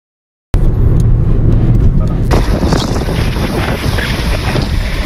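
A vehicle drives along the Aurangabad bypass highway with a loud, constant roar of wind buffeting and road noise that starts abruptly after a moment of silence.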